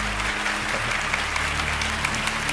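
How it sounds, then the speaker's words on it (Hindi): An audience at a Christian religious gathering applauds in a steady burst of clapping, with a low hum running underneath and no voices. "जोरदार ताली चाहिए।"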